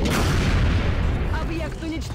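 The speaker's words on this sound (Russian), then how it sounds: "Антенна дрона взрывается." A drone's antenna blows up in the strategy game XCOM: Enemy Within, a heavy low rumbling blast that fills the short moment and slowly fades.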